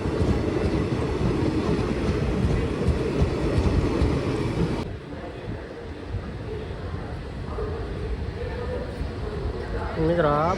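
A nearly empty passenger train rolling along the rails toward Dhola Junction, with a loud continuous rumble and rattle of the carriage, a squeal of wheels near the end, and voices talking over it.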